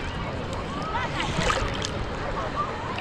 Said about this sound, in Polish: Fale jak te fale.